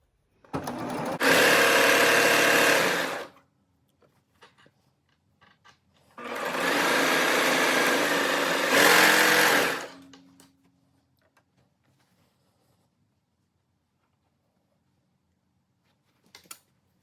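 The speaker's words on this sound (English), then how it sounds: "We are just sewing these 2 raw edges together, front to back side seam, on both sides as well as the crotch." Sewing machine stitching raw edges together along a front-to-back side seam of a bubble bottom garment, two sustained bursts of close, loud running with a pause between and a faint click near the end.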